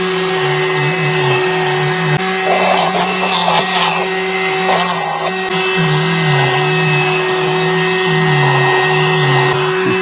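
A VacLife rechargeable handheld vacuum with a motorized brush runs steadily up close, picking up Florida sand, its motor whine constant and loud, with brief rattling bursts as grit is drawn in.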